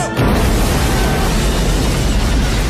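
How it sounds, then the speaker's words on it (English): A car explodes in an action-movie scene with a loud, sustained roaring boom that fills the whole moment after a sharp onset, dense and heavy with no talk over it. "he's not looking back at the explosion"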